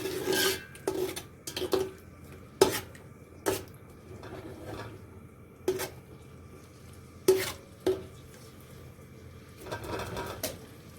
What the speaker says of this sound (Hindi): प्याज को अच्छी तरह ब्राउन कर लेंगे।